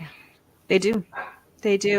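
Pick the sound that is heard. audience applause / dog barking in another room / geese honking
dog barking in another room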